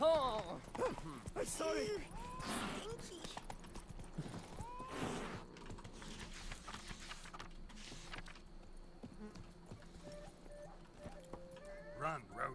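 Roach, the horse in The Witcher 3: Blood and Wine, gallops with a rhythmic, close clip-clop of hooves and a brief whinny, while someone talks briefly over the hoofbeats.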